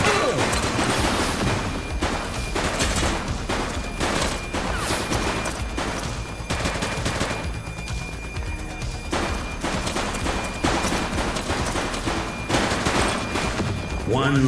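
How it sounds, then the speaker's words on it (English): Bursts of rapid gunfire in a police-themed shooter video game, loud and continuous with crashes and impacts throughout, mixed with game dialogue and voices. "She's shooting!"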